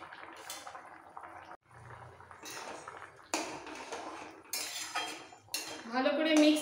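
A spoon clinks and scrapes around a pot of sukto cooked with ghee, repeated close metallic stirring knocks with a faint bubbling liquid underneath, no voices.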